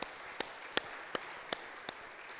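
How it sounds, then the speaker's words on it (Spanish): Six sharp, evenly spaced claps ring out at a slow steady rhythm during a church sermon, fairly quiet against a hushed background. "Un aplauso a Dios por las madres."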